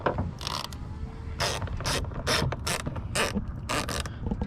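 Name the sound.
ratchet with extension working inside GMT800 door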